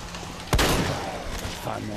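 A single loud shotgun blast in The Walking Dead: Survival Instinct rings out sharply midway, followed by a decaying roar over background game noise.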